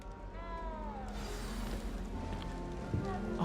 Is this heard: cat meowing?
yes